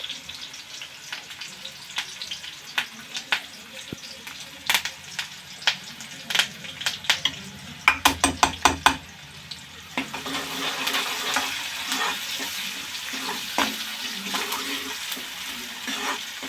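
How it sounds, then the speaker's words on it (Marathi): Finely chopped onion, green chilli and ten to twelve curry leaves sauté in oil in a pan for a mung bean dish. A spatula scrapes and clicks sharply at first, then a steady sizzle rises underneath. "हे व्यवस्थित परतून घ्यायचं आहे तेलामध्ये"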